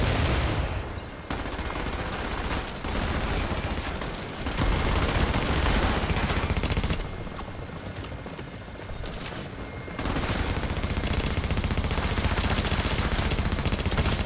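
Gunfire in the shooter game Tom Clancy's The Division: dense, continuous automatic weapon fire and fusillades fill the clip, loud and close, with only brief lulls between sustained bursts.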